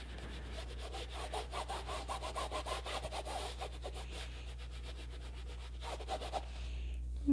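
A paintbrush scrubs acrylic paint onto canvas in a beach painting, making rapid rhythmic rough rubbing strokes, close and fairly quiet, over a low steady hum.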